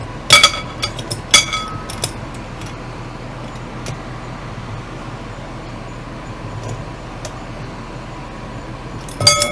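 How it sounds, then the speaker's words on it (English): Pliers tightening a metal fitting on a glass candy dish, with a few sharp clinks and clicks near the start and again at the end, and quiet handling noise in between. "Get a pair of pliers. Tighten that up. Just as tight as we can get it."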